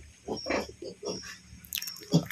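Farm pigs being fed banana leaves, with a newly farrowed sow nearby, give a run of short, close grunts and snorts with some chewing noises and a sharper squeal near the end.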